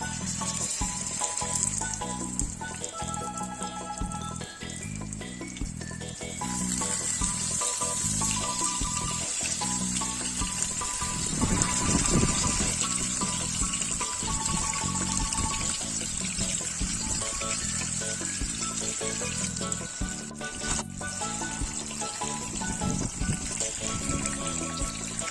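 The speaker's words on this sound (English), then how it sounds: "Heat oil in a pan and shallow fry the kingfish slices on medium flame." Kingfish slices shallow frying in oil in a pan on a medium flame, a steady sizzle running throughout under background music, with a brief louder spatter midway.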